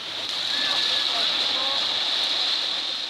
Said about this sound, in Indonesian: awalnya merekam derasnya arus Sungai Ciliwung Senin pagi